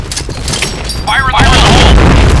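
Grenade explosion in the video game PointBlank, a loud boom and rumbling blast erupting about a second in and sustaining to the end, with a voice shouting over the gameplay noise.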